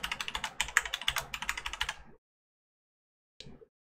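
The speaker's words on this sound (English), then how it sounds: "if I type my password into here" Quick, even keystrokes tap on a computer keyboard in a close, dense burst for about two seconds, then silence and a brief final pair of clicks.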